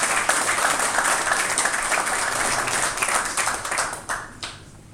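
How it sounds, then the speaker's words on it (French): Applause from an audience at a ministerial installation speech, a dense wash of clapping that holds steady before thinning out with a few last claps near the end. "Il mérite quand même des applaudissements."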